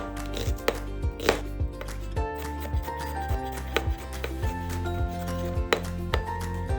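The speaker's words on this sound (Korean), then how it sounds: "우선 유기농 양파 반개를 준비해 주세요. 그리고 잘게 다져줍니다." Half an organic onion is finely chopped with a knife on a board, giving steady rhythmic knocks about twice a second, close and clear over a backdrop of sustained music.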